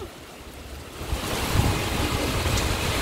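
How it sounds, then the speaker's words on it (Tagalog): Heavy rain pours in a dense, steady hiss that swells louder after the first second, with wind noise mixed in. "Hala, lakas ng ulan."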